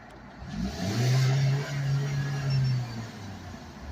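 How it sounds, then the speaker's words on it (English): A 2010–2016 Mini Cooper with a rough idle and stalling trouble runs just after being cranked, its engine a steady, fairly loud mid-pitched hum that swells briefly in a rev before settling, heard close with no talk. "Now we just cranked the vehicle."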